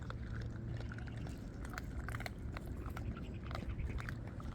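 Stray forest dogs crunch and chew dry food close up, a steady stream of crisp crunching bites with small clicks of kibble.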